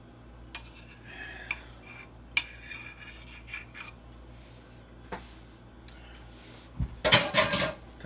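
Metal spoon scraping and clinking inside a pot of oxtail soup, scattered light taps over a few seconds, then a burst of rapid louder scrapes near the end, close and quiet without talk.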